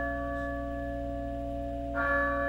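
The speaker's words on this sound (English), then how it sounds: "Ooh. Bell. Church time." A church bell in a video game tolls with a sustained, humming ring over a low ambient drone, then a fresh strike brightens the tone near the end; no talking.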